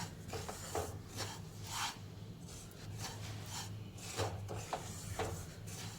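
Coarse corn flour dry-roasted in a pan for upma, giving a steady soft scraping and rubbing texture with repeated rasping strokes at close range, no voices.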